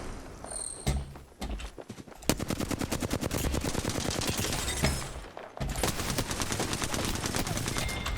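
Rapid automatic gunfire rattles in the Apex Legends video game, arriving in long dense bursts with short pauses between them, loud and close.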